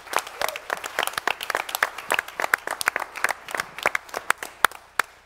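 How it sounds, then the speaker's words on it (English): A small audience applauds with scattered, irregular claps that stay moderately close and thin out toward the end. "I think that deserves a round of applause"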